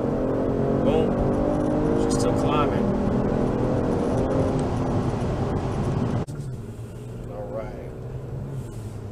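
A Genesis G70 3.3T sedan accelerates hard on launch control, its engine a sustained loud drone that rises in pitch before easing off, with a voice heard briefly over the engine.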